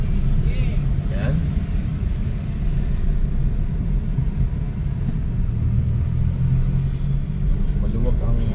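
Steady rumble of cars and engines driving along a busy road at night in San Mateo, Rizal, a continuous loud low traffic drone with occasional passing vehicles, while someone talks over it.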